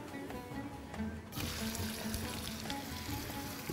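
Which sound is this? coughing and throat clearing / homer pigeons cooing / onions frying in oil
onions frying in oil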